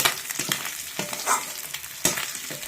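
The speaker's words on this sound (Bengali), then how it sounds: "আবার ওদিকে মাছও ভাজতে নিচ্ছি" Fish frying in hot oil crackles and sizzles up close, with irregular bursts and spatters over a continuous hiss.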